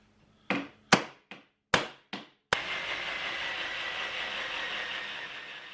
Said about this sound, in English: So time to get drilling.